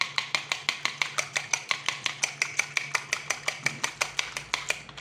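A single egg beaten loose in a bowl with tapioca starch for fried chicken meatballs: fast, steady, close tapping strokes, about five a second, continuing evenly with no voices.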